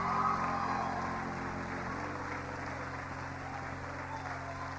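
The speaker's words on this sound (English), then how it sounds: "Give them a hand clap, please, as they come." An audience at an honor student leaders event applauds two student managers as they come forward, a steady wash of clapping from many hands that slowly fades.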